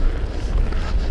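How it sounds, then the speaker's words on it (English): Wind buffeting a GoPro camera microphone, a steady low rumble with gusty swells throughout, alone with no talk. "We've got some wind."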